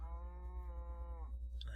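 A Minecraft cow lets out one long, drawn-out moo, a steady low bellow that bends downward at the end, heard alone and fairly close with no talking over it.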